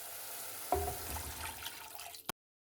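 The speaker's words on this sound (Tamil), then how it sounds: "இப்போ இந்த கிளாஸில் 3 மடங்கு அளவுக்கு தண்ணி ஊற்றிக்கலாம்." Water is poured into a glass while making thuthuvalai rasam. A steady, close pour lasts about a second and a half, then cuts off abruptly.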